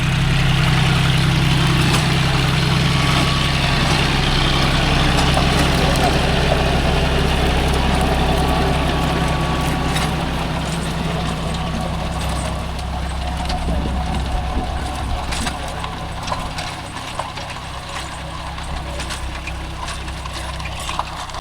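A John Deere 5105 40 hp tractor engine runs with a 36-blade rotavator in a farm field, a loud continuous low diesel drone with mechanical rattle, easing slightly softer toward the end, with occasional faint voices.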